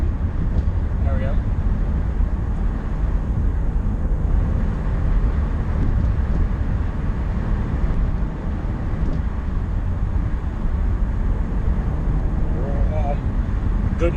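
A car engine with one partially blocked catalytic converter drones in a steady, loud low rumble throughout a test drive, with wind and road noise blended in.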